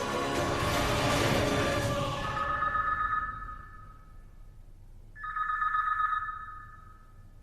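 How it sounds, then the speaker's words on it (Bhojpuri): Landline telephone ringing in a home, two electronic trills separated by a short pause, clear and close with no talking. "अब फोन आवेला तो दोनों तरफ बजेला"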